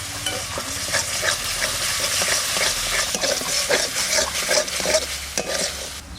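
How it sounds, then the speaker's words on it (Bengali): Ginger garlic paste sizzles steadily in a hot pan for a cauliflower korma, with frequent scraping stirs of a spoon over the constant frying hiss, close and fairly loud. "আদা রসুন বাটাটা দিয়ে দিচ্ছি।"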